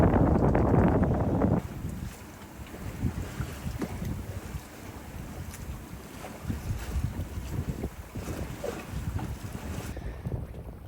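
A sailboat under way on the Atlantic on a solo crossing from Gambia toward Cabo Verde, with steady wind rushing over the microphone, water washing along the hull and occasional creaks, loudest gusts at the start.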